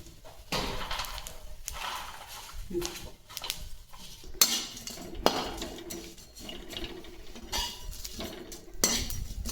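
Dry spices for kala masala roasting in a pan with no oil, a utensil stirring and scraping them with repeated clinks and rattles, close and steady throughout, no talk.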